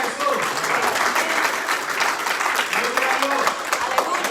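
A church congregation bursts into sustained, dense applause that fills the room, with voices calling out over the clapping throughout.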